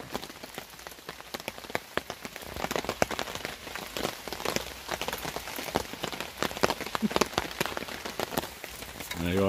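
Rain falls on a tarp shelter at a stormy hammock camp, making a dense, irregular patter of close drops with louder splats scattered through and a gradual swell toward the end.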